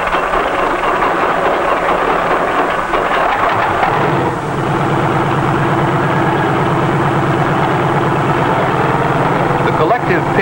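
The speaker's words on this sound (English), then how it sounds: "A self-starter starts the engine, and after a careful warm-up," A helicopter's piston engine, self-started and running through a careful warm-up, drones loud and close in a steady low rumble, its pitch settling into an even throb partway through.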